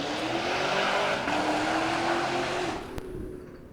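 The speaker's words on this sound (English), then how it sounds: "it's loud cars" Loud cars driving past near Crest Canyon Open Space Park in Del Mar, San Diego, a steady close roar of traffic that holds for several seconds, then eases off toward the end, with no talking.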